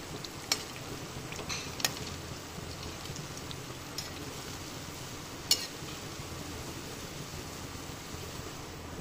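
Dahi vada batter frying in hot oil: a steady, quiet sizzle and crackle with occasional small pops, heard alone and close.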